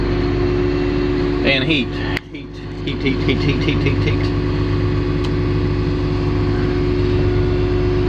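A Caterpillar machine's engine idles loudly and steadily while warming up in a logging and land-clearing setting, with a brief dip near the start and a voice speaking briefly over the constant rumble.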